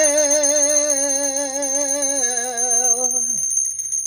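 A bright, steady electronic bell rings continuously with a fast warble, then cuts off with a short falling tone.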